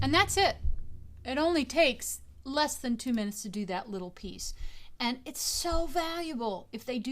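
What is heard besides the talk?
None of the usual background noises is heard.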